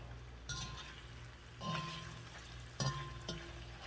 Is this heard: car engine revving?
no